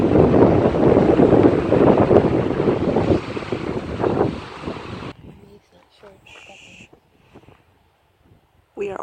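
Strong wind buffets the microphone on an exposed coastal hilltop trail at Bodega Head, California, a loud continuous roar for about five seconds that drops away to quiet with faint scattered sounds.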